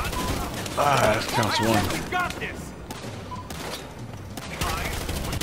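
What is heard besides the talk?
heavy gunfire in the video game Battlefield Hardline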